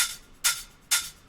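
Electronic hi-hat sample in a tech house drum pattern, three crisp, hissy ticks spaced evenly about half a second apart, soft and alone.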